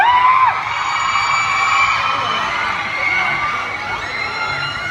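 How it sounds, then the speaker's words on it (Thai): A crowd at a stage event screaming and cheering to welcome a performer, a dense wall of high-pitched shrieks and whoops that holds loud and steady the whole time. "ขอเสียงกรี๊ดต้อนรับนักดิสการนะครั"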